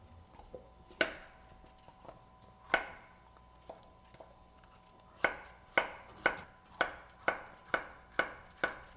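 A knife chops vegetables into thin strips on a cutting board while preparing red snapper, starting with a few scattered sharp strikes, then a quick steady run of about nine close, crisp chops.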